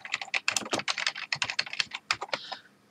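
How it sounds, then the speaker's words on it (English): Someone types a username on a computer keyboard in a quick, uneven run of close, crisp key clicks with no talking. "Then you're going to type your username."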